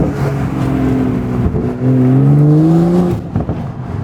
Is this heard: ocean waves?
no